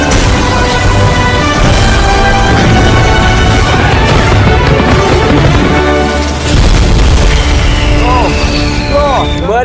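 Loud, dense booms and crashes from an action film scene where people's heads are blown up, with music and voices mixed in throughout, continuous and heavy from start to finish.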